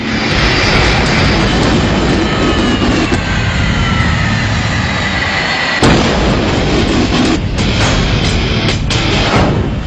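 An A-6 Intruder jet engine roars continuously on the deck of an aircraft carrier in the Persian Gulf, a loud, dense, unbroken blast with a few sharp bangs mixed in.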